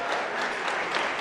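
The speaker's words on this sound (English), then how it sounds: "And I think we can clap for him" A conference audience at a national dialogue convention applauds a young speaker, dense steady clapping from many hands filling the hall throughout, fairly distant and moderate in level.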